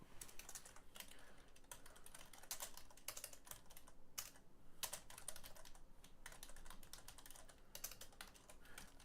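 Code is being typed on a computer keyboard for an Advent of Code 2023 puzzle. Soft, rapid key clicks run steadily over a faint background hiss, with no one speaking.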